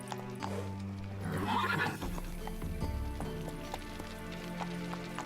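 Roach, a video game horse, gallops with rapid clip-clop hooves and lets out a loud whinny over a music score, close and continuous.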